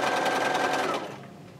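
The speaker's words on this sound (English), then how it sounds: "just going to sew a quarter inch seam all the way to the end" Sewing machine stitching a quarter inch quilt seam through fabric, a steady close rapid whirring hum that runs for about a second and then cuts off into quiet room noise.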